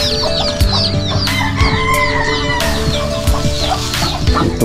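A flock of chickens, roosters, ducks and turkeys at a morning poultry farm, loud close clucking and squawking from many birds at once, with crowing and overlapping calls throughout.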